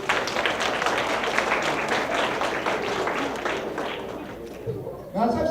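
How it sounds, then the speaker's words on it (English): An audience claps for volunteers at a hypnosis show in a psychology class, dense steady applause that fades toward the end before a voice cuts in. "let's give a round of applause to our volunteers"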